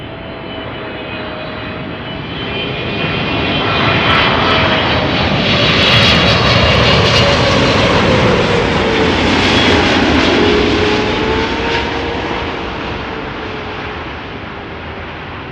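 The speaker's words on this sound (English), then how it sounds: "777 freighter. 7 years old. First flight August 2015, inbound from Dubai, where it left 6 hours 45 minutes ago." A seven-year-old Boeing 777 freighter jet inbound from Dubai lands on runway 06 at Amsterdam Schiphol, its engine roar swelling loud and close over several seconds, with a shifting whine, then easing off as it passes.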